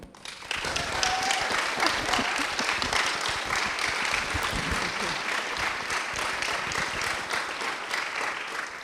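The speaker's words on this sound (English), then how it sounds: "if you want to stand up so you can have a round of applause" A theatre audience at a community variety show breaks into a round of applause, quickly swelling to dense, steady clapping that holds for several seconds.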